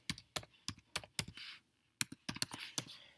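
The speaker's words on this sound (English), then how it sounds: "I'm going to type in my password" Typing on a MacBook keyboard, close and fairly quiet: a dozen or so crisp key clicks in two uneven bursts separated by a short pause.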